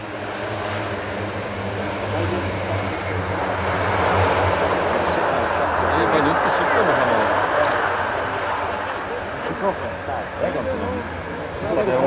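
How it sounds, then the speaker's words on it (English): Airbus A400M turboprop engines roar through an airshow flypast, a broad sustained drone that swells loudest mid-pass and then slowly fades, with a commentator's voice talking over it. "I'm just letting the noise of this wonderful Airbus A400M drop down before I start talking to you a little more."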